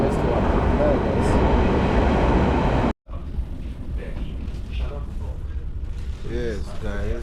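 A train leaving Berlin Hauptbahnhof for Dortmund, heard from inside the carriage, gives a loud steady rumble that cuts out abruptly. Quieter cabin noise with voices talking follows.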